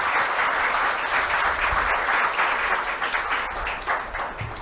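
Loud, sustained applause fills a hall at President Droupadi Murmu's event in Dehradun, Uttarakhand, as a visitor receives vision glasses, with dense clapping throughout.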